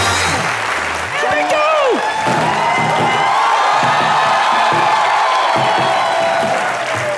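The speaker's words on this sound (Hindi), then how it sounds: "जोरदार तालियां मिस्टर सलीम सुलेमान के लिए" A studio audience at a comedy talk show breaks into loud, sustained applause with cheering and whoops, a dense wall of clapping with voices and shouts mixed in throughout.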